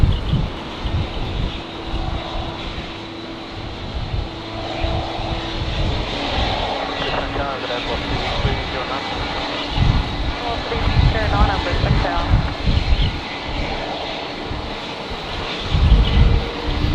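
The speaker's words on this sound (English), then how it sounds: "Philippine Airlines here, flight 221, coming in from Manila." Philippine Airlines flight 221 from Manila landing at Brisbane on a windy day, a steady jet engine roar with gusty wind buffeting the microphone and someone talking over it throughout.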